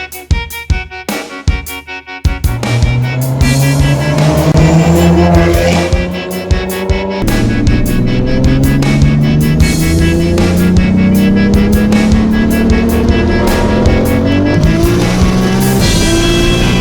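A BMW M3 G80 stage 3 with 800 hp races a Toyota Supra with a 2JZ-GTE engine. Loud engines roar and rise in pitch through the gears, with a burst of wheelspin and squeal at launch, close and continuous.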